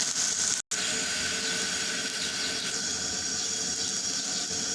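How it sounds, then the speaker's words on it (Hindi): Previously boiled water is poured into a cooking pot of black chickpeas, giving a steady, close rushing hiss that runs almost the whole time, broken by one brief gap near the start. "ये पानी मैंने डाल दिया।"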